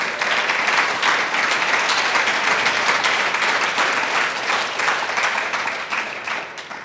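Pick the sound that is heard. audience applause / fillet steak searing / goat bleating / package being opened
audience applause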